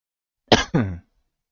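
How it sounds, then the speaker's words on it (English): Two quick, harsh coughs in close succession, close and fairly loud, then silence. "God, I can't stop coughing."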